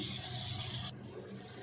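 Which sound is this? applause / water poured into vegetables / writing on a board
water poured into vegetables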